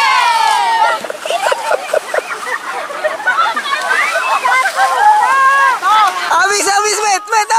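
Water is splashed toward the back during an outdoor group outbound activity, close sloshing and splattering under loud, excited chatter and shouting from several people.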